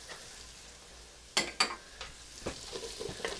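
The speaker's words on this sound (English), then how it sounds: "Stir that around a bit." Onions, salt, pepper and flour are stirred in a hot pot, with a soft steady sizzle and a few sharp scraping clacks of the spoon against the pot.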